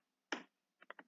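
One short key clack is followed after a pause by three quick, soft taps on a computer keyboard, faint against a silent room.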